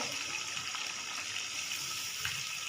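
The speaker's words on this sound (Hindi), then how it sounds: "अब मैं इनके अंदर आधा कप पानी शामिल कर रही हूँ।" Half a cup of water pours steadily into tomatoes cooking for a biryani masala, a continuous close gushing and splashing with no voices.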